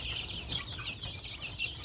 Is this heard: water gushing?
no